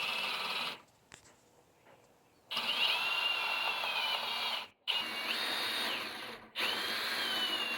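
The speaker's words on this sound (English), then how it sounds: "Now I'll drill out so that I can through bolt the front leg." A power drill bores a through-bolt hole in wood for the front leg of a simple shave horse, whining loudly in sustained bursts separated by short pauses and one longer stop.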